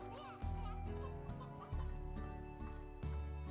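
Chickens cluck in the video game Slime Rancher, rising over steady game music with several bursts across a few seconds at moderate loudness.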